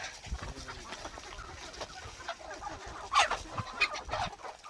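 Colourful free-range village hens on a farm cluck in scattered bursts with a few louder calls near the end, over steady outdoor background noise and no talk.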